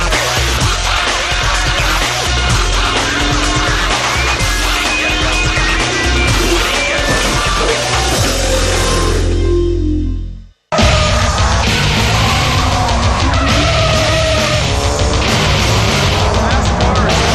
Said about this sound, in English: we're going to do some sliding, some spinning, and some drifting on rides